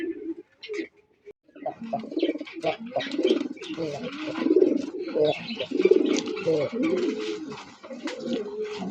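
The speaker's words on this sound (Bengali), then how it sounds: "এখানে এক জোড়া আমাদের দেশীয় বোম্বাই দেখেন তোমাদের ডাক কি দেখেন" A pair of desi Bombay pigeons coo in soft, rolling bursts at close range, overlapping throaty calls repeating steadily, with a few light chirps behind.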